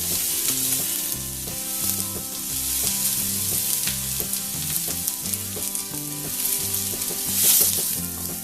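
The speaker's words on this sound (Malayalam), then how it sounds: "ഇനിയും നമ്മൾ അരിഞ്ഞു വെച്ചിരുന്ന സവോള ചെറിയ ഉള്ളി വെളുത്തുള്ളി ഒക്കെ ചേർക്കാം" Chopped onions, shallots and garlic sauté in hot oil in a pan, giving a loud, continuous nearby sizzle with crackles and occasional stirring clatter, no speech.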